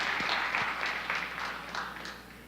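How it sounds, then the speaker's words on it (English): An audience at a startup summit gives the organizers a round of applause, a broad wash of steady clapping from a room of people that slowly fades. "Can we get another round of applause for the organizers of this event"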